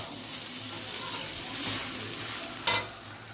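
Spicy semolina (jhal suji) cooking in a pan after water is added, with a soft continuous bubbling sizzle and a sharp scrape of stirring near the end, close up and fairly quiet.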